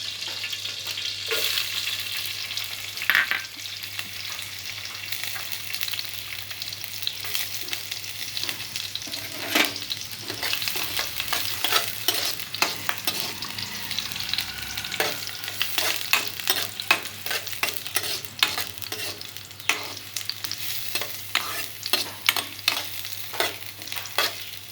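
Onion, shallots, garlic and ginger fry in oil with mustard seeds and curry leaves, giving a steady soft sizzle that runs throughout, with frequent clicks and scrapes of stirring that grow busier toward the end; no one talks.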